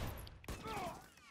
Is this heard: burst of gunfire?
yes